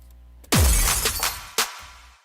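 A loud glass shatter bursts out with a crashing impact, tinkling debris falling away, then a second sharp smash of breaking glass before it fades.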